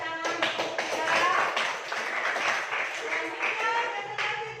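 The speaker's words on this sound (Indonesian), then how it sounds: "Tepuk tangan untuk kita." A classroom audience in an Indonesian teacher-training session breaks into a brief burst of clapping, steady and fairly close, lasting a few seconds with voices mixed in.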